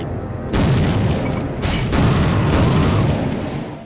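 Loud booming shotgun blasts in a first-person shooter game, a few heavy bursts with a ringing, rumbling tail that fills the whole clip.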